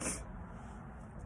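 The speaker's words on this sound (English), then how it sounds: "Hold on, I gotta sneeze." A single short, sharp sneeze bursts out at the start, then trails into quiet room noise, close to the microphone.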